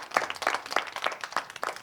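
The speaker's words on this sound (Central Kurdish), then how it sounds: "چەپڵە" A small group claps in a quick, even rhythm, a short burst of fairly close, moderately loud applause.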